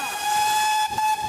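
Steam locomotive whistle on the River Dart railway, sounding one loud, sustained, steady blast up close with a hissing steam edge and a brief dip near the end.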